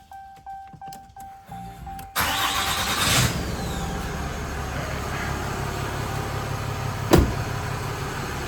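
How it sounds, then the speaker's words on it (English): A truck engine cranks with several rhythmic starter pulses, then catches and settles into a steady close idle, with one brief sharp knock later on. "I'll start the truck and then you can see the lights."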